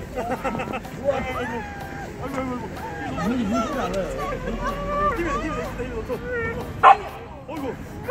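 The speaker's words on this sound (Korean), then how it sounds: "낑낑거리고 있어요. 가까이 가고 싶어서." Samoyed and Malamute dogs on a snowy winter walk whimper and yip repeatedly, eager to approach another dog, with people chatting nearby and a sharp bark near the end.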